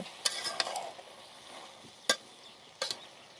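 Black ghevda beans sautéed with turmeric and salt, a soft frying sizzle under sharp scrapes and clinks of a spatula stirring the pan at irregular intervals, close by, with no talking.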